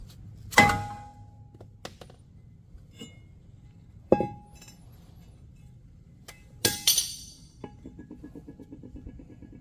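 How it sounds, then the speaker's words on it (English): A hammer strikes a seized brake rotor on the front of a Jeep Cherokee, giving a few sharp, ringing metallic blows spaced a few seconds apart with lighter taps between. "have to get the hammer on this one probably."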